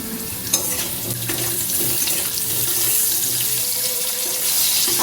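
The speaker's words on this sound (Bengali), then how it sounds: "তেল গরম হলে এবার আলুগুলো ভেজে নিচ্ছি" Potato strips fry in hot mustard oil with a steady dense sizzle, close and continuous, with an occasional soft stir or clink.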